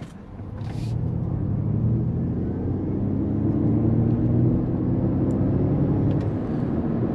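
Ford Mustang Mach-E electric car pulling away hard in its unbridled drive mode, a steady low road rumble and rising whine that swells and holds for several seconds, heard from inside the cabin.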